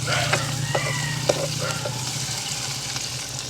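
Onions and green chilies sautéing in a pan for a village mango curry, a soft steady sizzle with a few stirring clinks, voices talking faintly over it.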